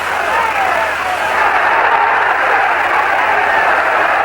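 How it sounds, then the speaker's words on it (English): A boxing crowd at an outdoor stadium in Puerto Rico roars and applauds continuously, a dense loud wash of cheering with commentary talk running over it. "The crowd is alive."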